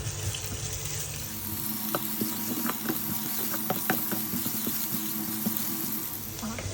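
Garlic and onion frying in a pan for a Burmese dish of fried banana blossom with pork, a steady close sizzle with scattered small pops and crackles throughout.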